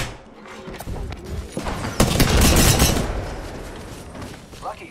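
Frag grenade going off in an online shooter video game, a single heavy booming blast about halfway through amid dense gunfire and game noise, with a player talking.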